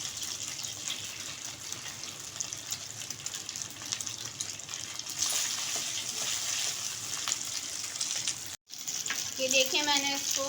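Beef steak stir-frying in a hot pan: a steady, dense sizzle and hiss throughout, with stirring noises, a brief break near the end and a little voice at the close.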